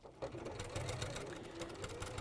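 A sewing machine stitches a simple seam on a quilting project, a close, steady, rapid mechanical whirring and ticking that runs continuously at a fairly quiet level, with no talking.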